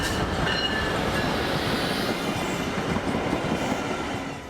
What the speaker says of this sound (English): green signals in each direction would signify the arrival of the hourly bright lines, beginning with BLF 727 up from the south